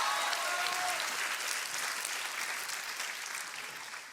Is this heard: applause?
yes